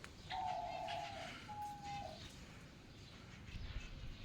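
A bird coos twice, softly and at a distance, over faint outdoor background noise in a garden with trees and plants.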